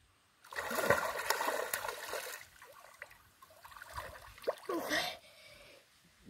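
A child swims and splashes in outdoor water on a family outing, with bursts of splashing and trickling water that rise and fall, fairly close by.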